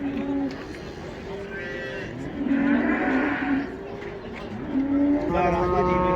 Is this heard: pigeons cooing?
no